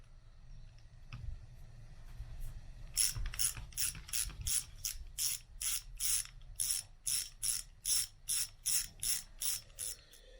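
A ratchet wrench clicks in steady bursts while turning 13mm bolts on an Austin Allegro 1275cc engine, close and moderately loud after a quieter start with faint background clatter.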